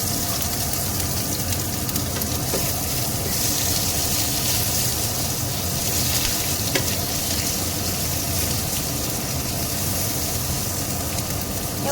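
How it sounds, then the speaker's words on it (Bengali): Chopped onions sizzle steadily in a hot pan for a dim kosha curry, a dense, even frying hiss that continues without pause and with no talking. "এবার কুচানো পেঁয়াজগুলো দিয়ে দিচ্ছি।"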